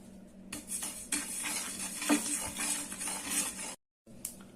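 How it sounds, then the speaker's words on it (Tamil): White sesame seeds dry roasting in a bare pan, giving scattered small pops and crackles, with scraping and clinks of stirring against the metal, then a brief pause before a few more pops. "எள்ளு பாருங்க பொரிய ஆரம்பிக்குது."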